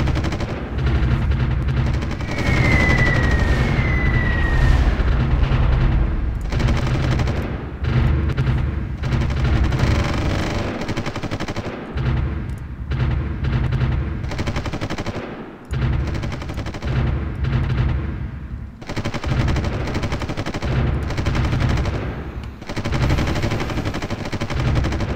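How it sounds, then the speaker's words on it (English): Artillery and gunfire in Supreme Ruler Ultimate, a loud, steady battle din of repeated shots and booming rounds that continues almost unbroken, with a few brief dips, and no voices. "This definitely gives me the ability to land rounds with my artillery."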